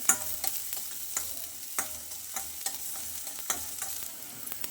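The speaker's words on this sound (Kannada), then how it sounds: "ಒಂದು ಎರಡು ಪೀಸ್ ಚಕ್ಕೆ ಒಂದು ಎರಡು ಲವಂಗ ಒಂದು ಏಲಕ್ಕಿ ಒಂದು ಚಿಕ್ಕ ಈರುಳ್ಳಿ ಸ್ವಲ್ಪ ಚೆನ್ನಾಗಿ ಫ್ರೈ ಮಾಡ್ಕೋಬೇಕು" Cinnamon, cloves, cardamom and a small onion fry in a pan for mutton gravy, a soft steady sizzle broken by regular sharp scrapes of a stirring spoon, no voices.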